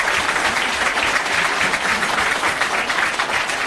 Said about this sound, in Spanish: la diputada Mariela Magallanes, para quien pido un fuerte aplauso